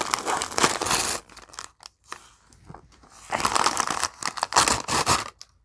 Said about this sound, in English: Okay, crinkling.